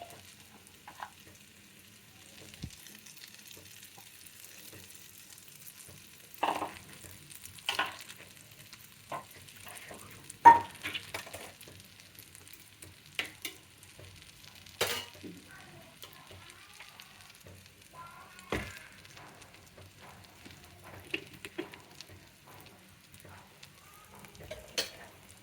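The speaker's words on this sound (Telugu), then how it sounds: "కొద్దిగా వేగిన తర్వాత అప్పుడు కలిపెట్టాలండి" Vegetables frying in a pan, apparently ivy gourd and brinjal for a chutney, with a steady soft sizzle under scattered scrapes and clinks of stirring, moderately close, no talking.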